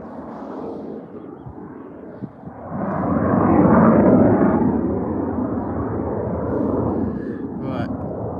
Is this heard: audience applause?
no